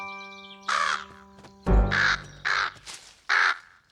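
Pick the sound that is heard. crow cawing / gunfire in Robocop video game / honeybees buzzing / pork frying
crow cawing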